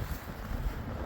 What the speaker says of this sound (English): I gotta walk against the wind.